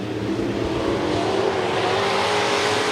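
Sportmod race cars at US 30 Speedway roar in a continuous, loud engine drone as a pack runs three wide into a turn, steady and close throughout.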